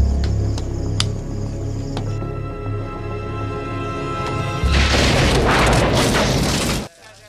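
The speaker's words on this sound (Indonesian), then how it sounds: "tiba-tiba ada seorang yang melempar granat ke sana" A grenade thrown into a room goes off as a film sound effect: tense tonal hits give way to a loud, dense roaring blast that cuts off abruptly.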